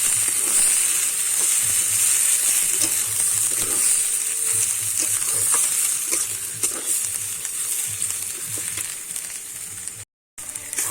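Ground ghetkol leaf paste cooks in a pan with a steady close sizzle and soft intermittent stirring scrapes, no voices, cutting out briefly near the end.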